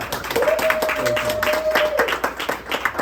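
Applause at a grand opening event, a crowd clapping steadily with some talk and a held tone running through the middle.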